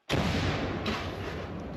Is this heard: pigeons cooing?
no